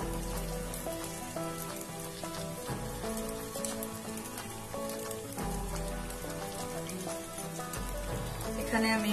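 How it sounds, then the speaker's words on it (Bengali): Patishapta, a Bengali crepe to be filled with kheer, fries in a pan on medium-low heat with a steady, close sizzle much like rain. A faint background hum runs beneath it throughout. "এখানে আমি এটাকে মিডিয়াম লো হিটে ভালো করে ভেজে নিচ্ছি।"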